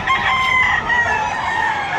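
A rooster among chickens being sold in Batangas crows one long, loud, drawn-out call, near and alone.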